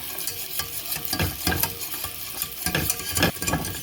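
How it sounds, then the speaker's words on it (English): A whisk scrapes and stirs a sauce with broth in a pot, giving irregular bursts of wet clattering and swishing. The strokes run steadily at close range, with no talk. "whisk until it comes back to a boil"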